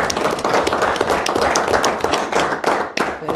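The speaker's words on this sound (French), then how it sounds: "je pense que ça prend une bonne main d'applaudissements pour ces personnes" A municipal council chamber breaks into sustained applause, a dense, close crackle of many hands clapping throughout with no talk over it.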